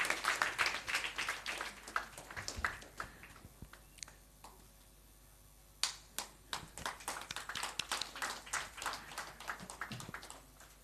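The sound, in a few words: audience applause at a medical conference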